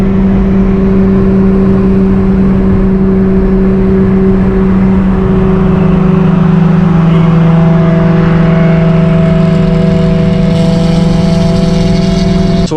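Cars pulling out of a Cars and Coffee meet, engines droning and rising in steady revving tones as vehicles accelerate away nearby, with a dense continuous rumble throughout and a sharper rise toward the end.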